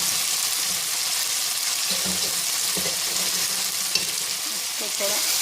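Chicken fries with ginger garlic paste in a pan for maqluba, a loud continuous sizzle close up with scraping and stirring sounds rising through it.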